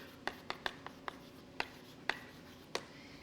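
Chalk or marker taps and scratches against a board during a mathematics lecture, as a sparse run of short, sharp strokes with brief pauses, moderately close over a quiet room.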